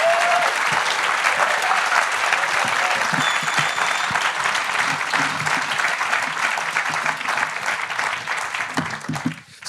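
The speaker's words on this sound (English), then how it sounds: "So let's give them a round of applause." A live audience gives a sustained round of applause for two guests at a casual morning show. The clapping stays full and even before tapering off in the final moments.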